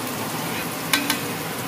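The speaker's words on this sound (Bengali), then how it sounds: "আলুগুলো এই দিকটা ভাজা হয়ে গেছে, ওই দিকটা ভেজে নিয়ে আলুগুলো তুলে নেব।" Potatoes fry in oil with a steady, close sizzle, broken by two quick clicks of stirring near the middle.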